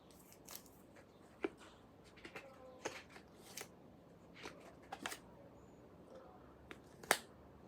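Pages of a blue Joe shirt notebook with cardstock pages being flipped, giving sparse, quiet papery rustles and sharp snaps scattered irregularly, close by without talking.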